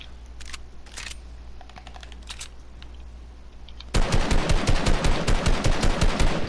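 Rapid gunfire in the Fortnite video game, a few scattered short bursts at first, then a loud sustained stream of fast repeated shots in the latter part.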